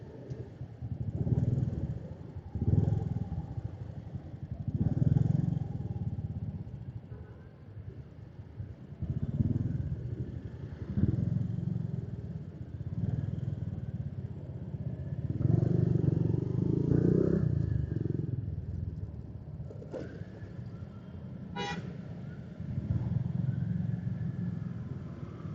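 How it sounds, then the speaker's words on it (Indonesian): Motorcycle engine with a noisy cam chain, running with an irregular metallic clatter and rattle over a low rumble, moderately loud and close, no speech. "Berisiknya tuh berisik dari rantai keteng."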